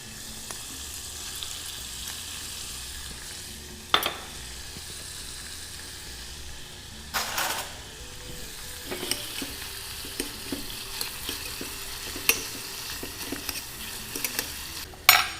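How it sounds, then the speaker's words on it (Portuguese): Bell pepper and sardine fry together in a pan for Italian antipasti, a continuous sizzle broken by repeated sharp clinks and scrapes of a utensil stirring. "Vamos colocar o pimentão e a sardinha para fritar junto."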